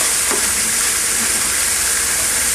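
Minced carrot hitting a hot frying pan gives a steady, loud hissing sizzle that fills the whole stretch with no pauses.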